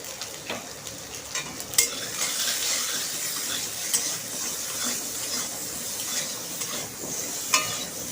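Hog plum (amra) being stirred in a pan with salt and turmeric, a steady soft sizzle with scraping spoon strokes and a few sharper clinks, continuous and close throughout.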